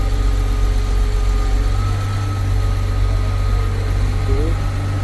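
Steady diesel idle of a newly overhauled CAT 950H wheel loader running at around 900 RPM, a loud, constant low rumble with a faint whine, close and continuous for the whole stretch with no talking.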